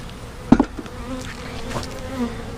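Honey bees hum steadily around an opened hive during re-queening of a swarmed colony, a continuous low buzz with a brief louder knock near the start.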